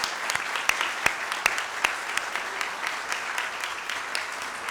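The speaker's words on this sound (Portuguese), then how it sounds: "pedir uma salva de palmas aí, tudo de bom para você" A round of applause from an audience at a panel session marks Paulo Lucon's birthday, with dense, steady clapping and a few sharper claps standing out throughout.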